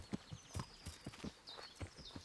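Horse hooves walking in the video game Kingdom Come: Deliverance, a steady series of soft thuds at an unhurried pace, heard fairly close over faint ambient game sound.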